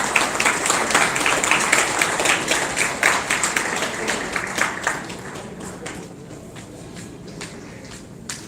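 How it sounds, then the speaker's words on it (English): Audience applause at a film festival award ceremony, a dense patter of many hands clapping steadily before gradually thinning and fading toward the end. "Let's have a big round of applause for Metro Women."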